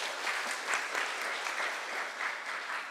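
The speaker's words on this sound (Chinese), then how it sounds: "我们再一次的掌声" A congregation applauds after a sermon in a church service, steady sustained clapping from many hands filling the room for several seconds, with no talk over it.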